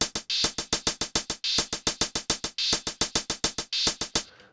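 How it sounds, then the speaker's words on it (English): Hi-hats on an Elektron Syntakt drum machine play a fast, steady pattern of crisp ticks, with longer open hits that are repeatedly cut short by a choking closed hat; dry electronic sound with no voice. "we need this hi-hat to choke this other hi-hat"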